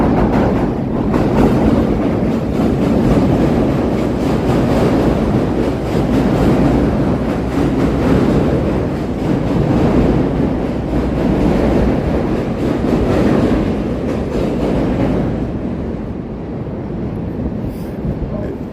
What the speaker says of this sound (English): it's a four-way intersection for the L tracks right here at Lake and Wells. And that's why I have the sound, the train going by